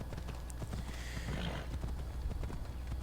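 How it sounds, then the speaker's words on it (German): Horse hooves clip-clop steadily in Assassin's Creed Odyssey, a dense run of close, even hoofbeats with a brief whinny-like tone, heard alone with no talk over it. "hier nehmen wir das Pferd mit"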